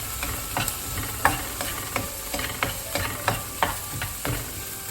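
Spices being stirred into Japanese fried rice in a hot pan, with a steady sizzle and a series of sharp spatula scrapes and knocks every half second or so, close and fairly loud, with no voices.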